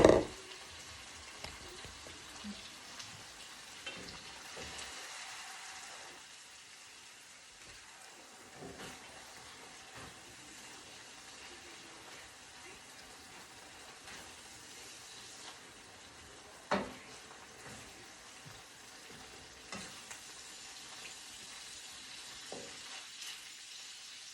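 Ground turkey browns in a pan with a quiet, steady sizzle and crackle, broken by occasional louder clicks and scrapes as the meat is stirred.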